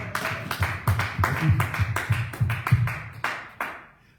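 A church congregation clapping in praise, a series of loud sharp claps in an uneven rhythm, close and echoing, with a voice speaking among them.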